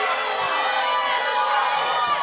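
A standing-room-only wrestling arena crowd roars and jeers in disdain, a dense, loud, continuous wall of shouting voices.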